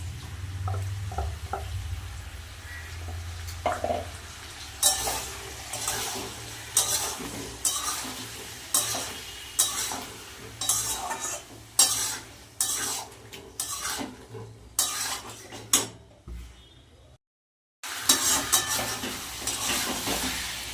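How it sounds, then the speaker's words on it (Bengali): Potatoes fry in a pan while being stirred with ground spice paste, giving repeated scraping and clinking strokes of a utensil over a steady sizzle, close and fairly loud, with a brief silent gap near the end. "আজকে মশলা দিয়ে আলুটা দিয়ে কষাবো বেটে রাখা মশলাটা দিয়ে দেবো"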